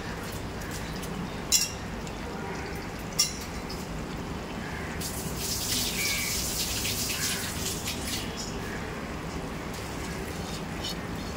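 Water is poured into a pot of soaked rice while making Goan prawn pulao, a soft steady splashing gush with a couple of brief clinks, moderately close and heard alone.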